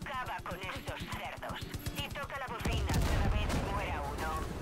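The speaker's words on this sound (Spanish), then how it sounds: "aprovechar las ametralladoras y disparar desde lejos" In Far Cry 5, vehicle-mounted machine gun fire rattles in a rapid regular stream of shots, then swells into louder explosive bursts, with a voice talking over it.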